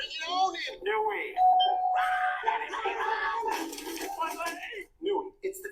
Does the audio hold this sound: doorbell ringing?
yes